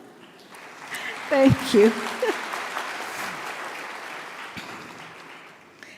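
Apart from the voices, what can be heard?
graduation audience applause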